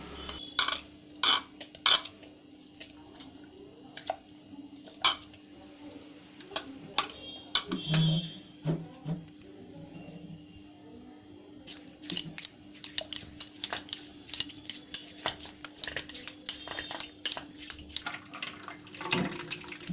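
Cooked dal being stirred and mashed with a ladle in a pressure cooker pot at home, heard as scattered metallic scrapes and clinks, sometimes quick bursts and sometimes separate knocks, with soft wet squelching underneath and steady background hum.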